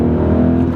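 A BMW E39 M5 engine revs briefly as the clutch takes up, giving a loud, close, harmonic growl that lasts under a second.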